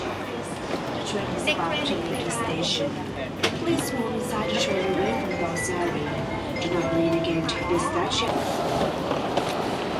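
Inside the Airport Rail Link train at Suvarnabhumi Airport, a steady rolling rumble and rail noise runs throughout, with passengers' voices and occasional clanks on top.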